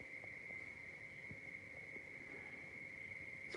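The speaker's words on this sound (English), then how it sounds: "So we do have noisy crickets." Crickets chirp in a steady, high, continuous trill inside a home machine shop, faint and unbroken across the whole stretch, with scattered low background noises beneath.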